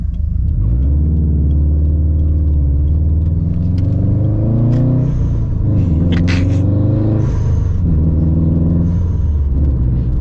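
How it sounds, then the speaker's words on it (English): Subaru STI Baja driving with a loud exhaust, a heavy engine drone that rises and falls in pitch as it accelerates, steady and prominent throughout from inside the vehicle. "Gosh, that exhaust is so loud"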